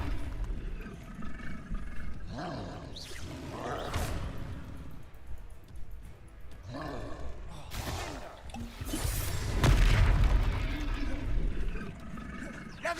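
Repeated Confringo fire-spell blasts in the Hogwarts Legacy video game, several sharp crashing bursts with whooshes spread through a busy battle mix, the heaviest boom near the end, with game voices shouting between them.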